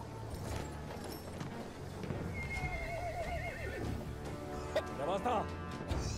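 A video game horse gallops with steady hoofbeats and lets out several wavering neighs and whinnies, and a voice speaks over the galloping.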